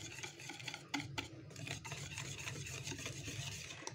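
A whisk stirs cake batter in a bowl, making soft, continuous rubbing and scraping strokes close by with a faint rhythmic swish and no voices.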